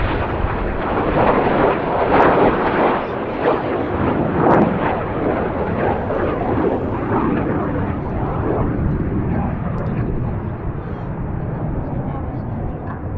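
Red Arrows jets fly tight barrel rolls at the RAF Cosford airshow, making a steady, loud, rushing roar that holds for the whole stretch while a commentator talks over it.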